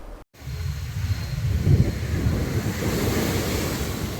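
Strong surf from a swell surge roars and crashes continuously onto the coast near Punnapra, Kerala, with deep rumbling waves and gusts of wind buffeting the microphone after a brief dropout at the start.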